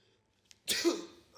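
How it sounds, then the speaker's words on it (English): A single abrupt sneeze, close and sharp, bursting out after a faint click and trailing off into a breathy sniff. "Did you just sneeze on me?"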